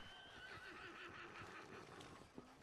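Faint horse whinny from the Red Dead Redemption 2 video game, heard through a steady background hum of ambience, brief and distant.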